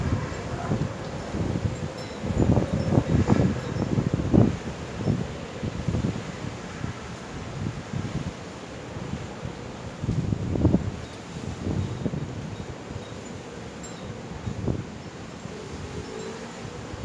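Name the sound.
strong wind blowing during a storm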